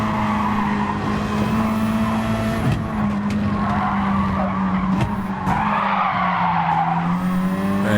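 Race cars in a racing video game on the Trail Mountain track. Engines drone and whine continuously, with a steady pitch that shifts between gears and occasional tire noise, loud and close throughout, with no talking.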